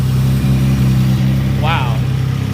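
A Honda Del Sol J-series engine with a Holley EFI manifold idles a little high while warming up, a steady close rumble running under a voice.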